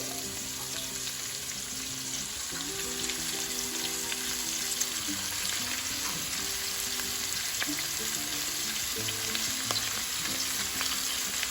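Onions for chicken cacciatore fry in a pan with a steady, close sizzle and occasional stirring, continuous and even throughout, with no talking.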